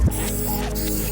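Aerosol spray paint can hissing out a steady base coat onto 3D-printed fishing lures, one continuous close, loud spray lasting about a second.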